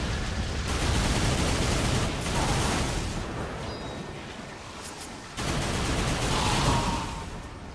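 Loud, dense gunfire in Darksiders II rattles in sustained bursts with a short gap, then resumes, crackling and booming throughout.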